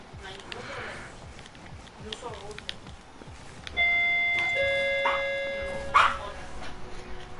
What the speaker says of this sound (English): Someone's on the doorbell.